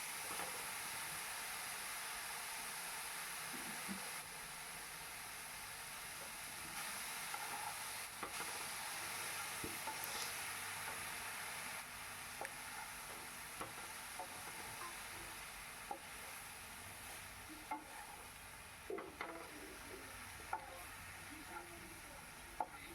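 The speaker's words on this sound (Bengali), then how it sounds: "শাক দিয়ে আমি আবার ভালো করে ভাজবো। ভালো করে নেড়ে চেড়ে শাকটাকে ভেজে নেব।" Chopped jute leaf greens stir-fry in a pan for a Bengali jute leaf curry, giving a steady close sizzle and hiss with occasional scraping stirs throughout, no talk.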